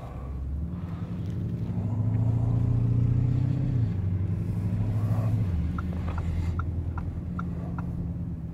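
Lamborghini Urus with a Keyvany kit, exhaust valves opening: a deep, steady engine rumble swells and drones close by, with a low throaty tone that shifts pitch midway before settling into a continuous idle growl.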